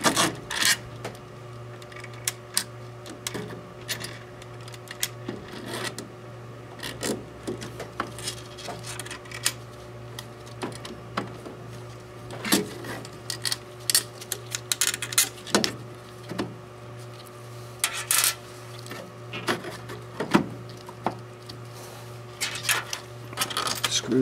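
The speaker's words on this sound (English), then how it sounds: "And then I can go ahead and put my cover back on." Plastic cover of an RTI Vortex 4200 being fitted back into place, heard as scattered close rubbing, scraping and light clicking handling sounds with no talking.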